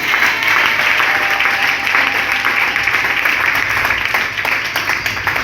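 A church congregation at a Sunday worship service breaks into steady, dense applause that fills the room continuously and loudly, with faint cheering mixed in.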